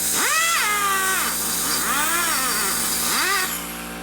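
A grinder blends the ports of a Harley-Davidson Twin Cam cylinder head from a 2004 FLHT touring bike, giving a close, loud whine in three rising and falling bursts as the tool loads and eases off, with no talk.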